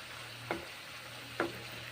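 Shushuni greens frying in a pan with garlic and a little mung dal give a soft, steady sizzle, with two brief stirring clinks about a second apart.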